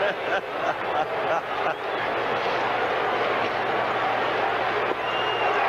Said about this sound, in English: the crowd roaring with every strike